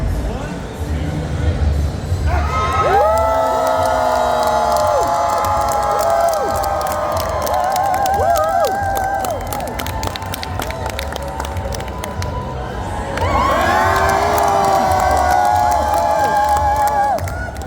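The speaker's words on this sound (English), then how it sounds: "Why don't you applause like James Marsters is on the stage?" Comic Con Brussels fans cheer, whoop and clap for James Marsters, Spike from "Buffy the Vampire Slayer", a loud, sustained crowd roar that swells twice, with a voice speaking briefly at the start.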